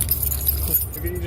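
Car keys jangle during a police stop in a store parking lot, a short metallic rattle under a background motor hum and nearby voices.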